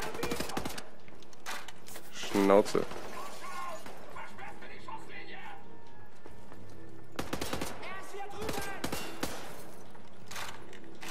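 Bursts of gunfire ring out in Wolfenstein The New Order, loud clustered volleys early and again near the end, with a voice speaking briefly in between.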